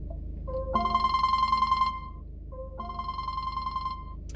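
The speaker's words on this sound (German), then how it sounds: "Ist halt der Standard-Klingelton," Default ringtone of a Ford SYNC 3 car infotainment system, two clear bursts of a bright electronic ringing melody separated by a short pause, loud and alone with no talk.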